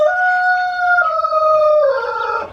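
A backyard rooster crows loudly and close by, one long drawn-out call with a strong harmonic, sung tone that bends slightly near its end, with no talk over it.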